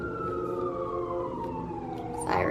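A single emergency siren passes outside, its wail sliding steadily lower in pitch as it goes by. It carries at moderate distance over a quiet room for a couple of seconds.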